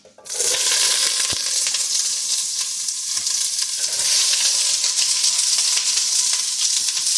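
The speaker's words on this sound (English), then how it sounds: "So let's get our onions in the pan." Onions dropped into hot olive oil in a large pan, erupting into a loud, dense, continuous sizzle and frying hiss that holds steady from the start, close up with no voices.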